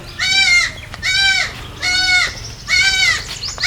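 A young goat bleats loudly and close inside a house, four drawn-out cries in a steady rhythm with short pauses between them, and no voices.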